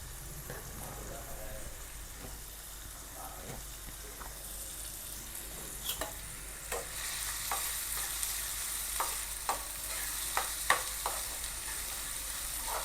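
Finely chopped onion, a medium-sized one, sizzles in hot oil in a pan while being stirred, with scraping strokes of the spoon against the pan adding sharper clicks over a steady soft hiss.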